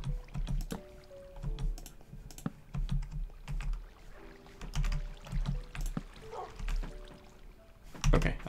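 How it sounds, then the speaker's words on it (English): Minecraft water ambience sloshes and burbles softly in the background while keyboard keys clatter steadily nearby throughout. "And go away, water sound."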